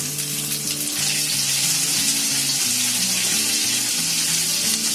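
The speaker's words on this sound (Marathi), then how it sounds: "आता कांदा टाकते." Sliced onion hitting hot oil in a pan for chili chicken, a loud, dense sizzle running steadily through five seconds over a low humming background, no talking.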